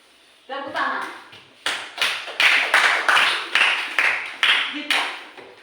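Children in a classroom clap their hands in a run of sharp, regular claps that follows a brief spoken word, heard fairly close.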